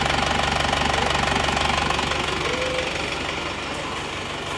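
An Isuzu Panther engine, just started after repairs, idling steadily up close with a rough, knocking rumble that stays constant throughout.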